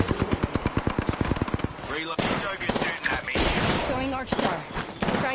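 Rapid automatic weapon fire in a shooter video game, a fast regular burst of close, loud shots followed by more scattered gunfire and effects, with voices talking over it.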